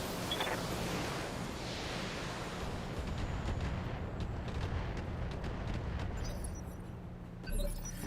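Weapon fire on a target in the BattleTech video game, a dense, rumbling barrage of booms and blasts that holds steady for several seconds before easing off, with a sharper burst near the end.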